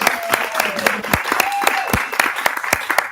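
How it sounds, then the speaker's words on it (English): Audience clapping at a poetry reading and fundraiser for voter mobilization, a short burst of lively applause from a modest crowd with voices and a whoop mixed in. "Give it a round of applause for the cause."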